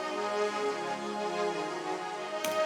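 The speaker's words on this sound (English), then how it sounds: "It's not a proper string, it's a synth plus string mix." A sustained deep house melodic line of blended synth and strings, smooth and steady, ending with a brief sharp transient.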